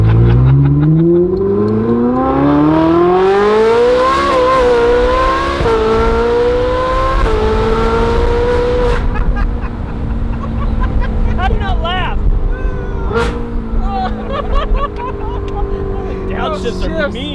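A Ferrari 458 with a Kline Inconel exhaust revs hard: a loud, high-pitched engine wail climbs through several gears with sharp shift breaks, then settles into rapid blips and snarls.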